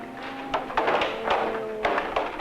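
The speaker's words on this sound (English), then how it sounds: "Close the doors." Several dull thuds and taps spaced irregularly as auditorium doors swing shut at moderate distance in a large room, with little talk.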